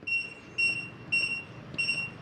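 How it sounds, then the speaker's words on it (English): A Kwikset Smartcode deadbolt keypad gives four short, evenly spaced high electronic beeps, faint and clean against quiet room background. "It'll beep at you one time"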